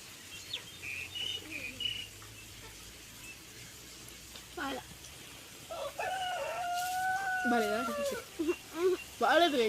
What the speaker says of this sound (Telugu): మన చుట్టూ ఇక్కడిక్కడే తిరుగుతూ ఉండే కోళ్ళు